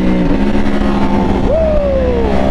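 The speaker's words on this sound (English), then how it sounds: "These damn bikes are so loud." A Yamaha R1 sport motorcycle engine revs loudly and steadily throughout, its pitch dipping early and then sweeping up sharply near the midpoint before easing back down.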